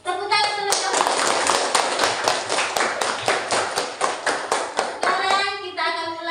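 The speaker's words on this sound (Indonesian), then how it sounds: "Tepuk tangan terlebih dahulu." A classroom group claps together in a fast, steady rhythmic run of hand claps lasting several seconds, loud and close, with voices speaking just before and after.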